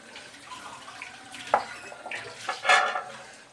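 Coconut milk pressed from half a grated coconut is poured into a Kerala breadfruit curry in a pot. Close, soft liquid splashes and trickles come in uneven bursts, growing louder toward the end.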